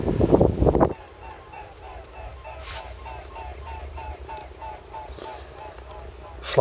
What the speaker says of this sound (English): Flock of geese.